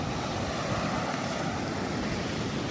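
Sea waves washing along the shore at Masanga Point, General Nakar, Quezon, heard as a steady, unbroken roar of surf with wind blowing over the microphone.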